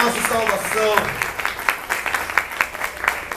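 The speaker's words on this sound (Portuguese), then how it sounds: "dar uma salva de palmas à palavra de Deus" A church congregation at a Holy Spirit seminar breaks into applause after the scripture reading, with a voice over the opening second and then a patter of clapping that thins toward the end.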